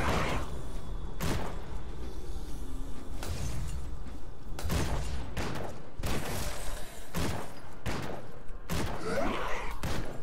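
Grenade explosions burst repeatedly in the Grim Dawn video game, loud broadband blasts spaced a second or two apart over a dense, continuous combat din.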